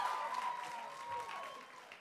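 Applause from a student government debate audience, a fairly faint, steady wash of clapping with a thin sustained tone running through it.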